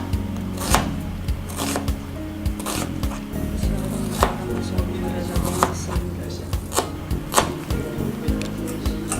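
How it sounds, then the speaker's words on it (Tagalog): A knife chops onions on a cutting board for pickled chayote (atchara), with steady, fairly close thuds and taps repeating in an uneven rhythm under background music. "Almost forgot to slice the onions"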